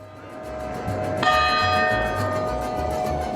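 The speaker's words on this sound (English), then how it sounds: "if you're staying around the cathedral in any of those hotels, you are bound to hear the bells ring every other hour" Large cathedral bells ring in San Miguel de Allende, Mexico, one loud resonant strike blooming over a steady ringing tone amid faint ambient street noise.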